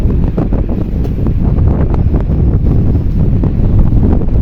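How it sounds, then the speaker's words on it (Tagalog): Strong wind buffets the microphone in a steady, loud roar with gusty rumbling throughout, and no voices, at a scenic viewpoint in Hong Kong. "yung malakas ang hangin"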